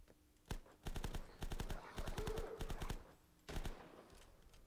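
Rapid bursts of gunfire in the zombie video game Last Stand Union City, several quick clusters of sharp shots with brief gaps between them, moderately close, with no talk.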